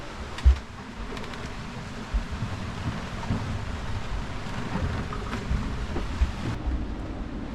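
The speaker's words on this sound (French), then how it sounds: "il y a des éclairs, il y a du tonnerre." Thunder rolls during a storm at sea aboard a solo sailboat crossing the Atlantic, a low thump followed by a continuous rumble beneath steady rain and wind noise.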